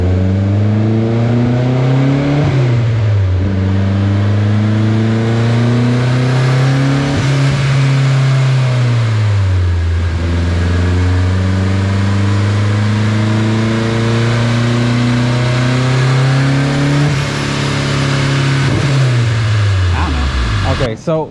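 A turbocharged K20A3-swapped 1999 Honda Civic revs hard and loud on a dyno, its pitch climbing and dropping in several long sweeps through the gears, sustained and close throughout.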